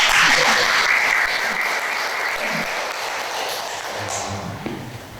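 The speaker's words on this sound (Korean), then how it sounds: "박수 한번 쳐야죠." Audience applause at a democracy forum lecture with university students present, loud at first and tapering to a softer, steady patter of clapping hands across the room.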